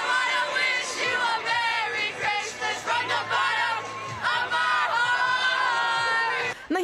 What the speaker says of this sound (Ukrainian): Перед пухнастою красунею вперше за пандемічних часів натовп людей.